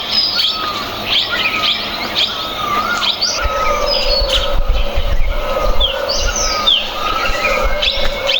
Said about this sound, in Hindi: ये चिड़ियों की चहचहाट सुने तो हमारा दिन बन जाता है